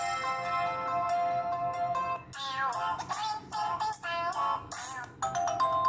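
A bright, melodic electronic ringtone plays on loop from an Ojoy A1 kids' smartwatch, tinny and close, with chiming tones and brief pauses between phrases.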